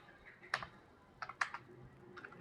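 A computer keyboard is tapped while typing in MS Word, a few faint, sparse key clicks in small clusters, close and quiet with no speech.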